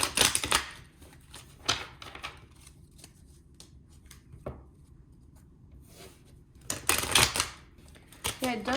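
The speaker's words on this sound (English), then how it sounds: "Let's just shuffle this deck as well." A deck of tarot cards is shuffled in crisp, riffling bursts at the start and end, with quieter handling in between.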